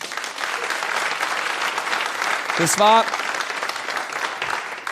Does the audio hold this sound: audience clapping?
yes